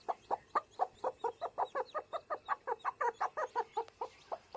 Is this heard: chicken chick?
yes